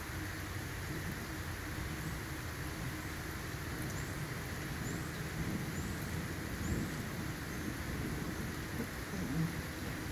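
Steady rain of a thunderstorm in Mays, Indiana, falling as a continuous broadband hiss with low rumbling thunder rolling underneath, even and unbroken from start to finish.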